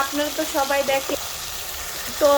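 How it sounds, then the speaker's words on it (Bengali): Tilapia fish being bhuna-fried in oil in a home kitchen sizzles steadily in the background, with a voice-like tonal sound running over the frying for about two seconds. "দেখেন ভুনা করতেছি তেলাপোয়া মাছ।"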